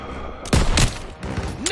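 Heavy gunfire from the World War II shooter Call of Duty: WW2 cracks in several loud close bursts over a rumbling battle background, with a short voice heard near the end.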